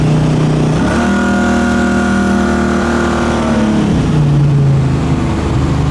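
A 1976 Pontiac Trans Am V8 cruising at highway speed holds a steady, loud engine drone around 3,300 RPM, with a smooth rise and fall in pitch as the revs shift, and no voices over it.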